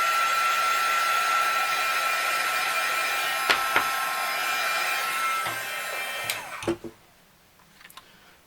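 A heat tool drying ink blows with a steady, loud whooshing hum for several seconds, with a few small clicks, then switches off into near silence.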